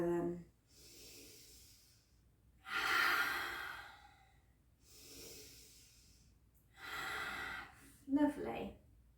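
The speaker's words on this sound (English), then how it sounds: "Try and inhale as you raise the arms and exhale as you lower them." Slow, deliberate yoga breathing paired with arm raises and lowerings: four long audible breaths, inhales and exhales alternating close to the mic, with a short gasp or snort near the end.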